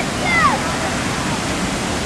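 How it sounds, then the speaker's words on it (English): Paris fountains running at full blast, a steady loud wash of splashing water that fills the whole scene without pause, with a brief whistle-like tone near the start. "Now we've got the fountains on full blast now."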